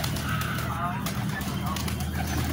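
Low pigeon cooing on a rooftop amid a busy outdoor background, with faint other bird calls and a constant hum underneath.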